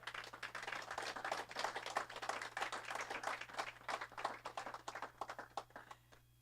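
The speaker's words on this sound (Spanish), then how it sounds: "Dele un aplauso al Señor," A church congregation applauding during a service: dense, steady clapping from many hands that carries on for several seconds before thinning out at the end.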